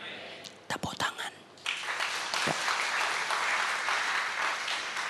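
Clapping from a church congregation during a sermon, a few claps first, then a steady wash of applause that builds and holds to the end, close and fairly loud.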